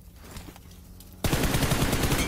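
Rapid automatic gunfire in a fast-paced shooter video game, a dense, loud burst of shots that starts abruptly after a quieter stretch and continues to the end.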